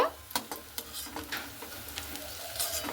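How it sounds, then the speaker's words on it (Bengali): Raw potato pakoras fry in hot oil, crackling and sizzling steadily while a utensil clicks and scrapes now and then as the fritters are turned and lifted. "সবগুলোই কিন্তু আমি ওইভাবে ভেজে নিচ্ছি"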